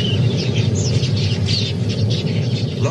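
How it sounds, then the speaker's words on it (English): A large flock of quelea birds at a pool's edge, dense overlapping chirps and twitters over a steady rushing wash of wing and ambient noise, busy and continuous. "Large flocks of quelias are in the area, searching for seed and grain"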